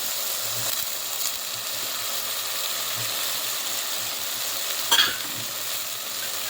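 Water hits a hot pan in a home kitchen and sets off a loud, continuous hissing sizzle that stays steady throughout, broken once by a brief clatter of a utensil.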